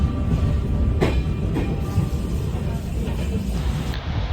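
A passenger train travels toward Prayagraj for the Maha Kumbh, its steady rumble of rolling carriages filling the background with faint clicks, a voice briefly audible.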